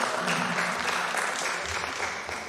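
An audience at a poetry gathering (kavi darbar) in Australia claps in a continuous, even round of applause. The clapping is moderately loud, with no voices over it.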